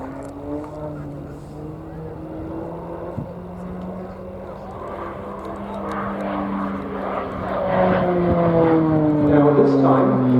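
A propeller training aircraft performing an aerobatic vertical climb with a quarter roll at an airshow, its engine drone rising and shifting in pitch as it grows louder toward the end, heard from a distance in open air.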